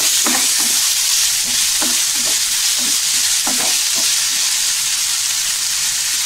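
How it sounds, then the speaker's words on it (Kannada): Finely chopped onions fry in a pan for chicken pepper fry, producing a loud steady hiss with regular scraping stirs from a spoon repeating every half second or so. "ಈಗ ಇದಕ್ಕೆ ಸಣ್ಣಗೆ ಕಟ್ ಮಾಡ್ಕೊಂಡಿರೋ ಈರುಳ್ಳಿನ ಸೇರಿಸ್ತಾ ಇದೀನಿ। ಇದನ್ನ ಫ್ರೈ ಮಾಡ್ಕೊಳ್ಳೋಣ।"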